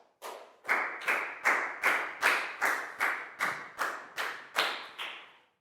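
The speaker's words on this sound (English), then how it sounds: "Big round of applause for Net," A class of Year 4 pupils gives a round of applause: about a dozen short, evenly spaced bursts of clapping in a steady rhythm, fairly close, with no talking.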